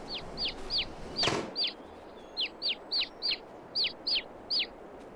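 Baby chicks in the Farming Simulator 22 video game cheep and cluck in a steady run of about a dozen short, high calls, fairly close and clear over a quiet background, with one brief louder burst early on.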